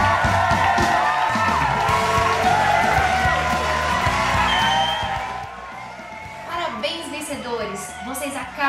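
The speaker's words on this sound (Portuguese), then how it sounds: "Palmas para os vencedores!" A crowd at a hospital hospitality awards event applauds and cheers loudly for prize winners, with whoops and shouts over dense clapping that gradually thins out toward the end.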